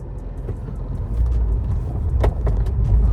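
High-mileage base-model Porsche 997 being driven, heard from inside the cabin as a loud, steady low engine and road rumble that builds slightly, with a few faint rattles and no talk.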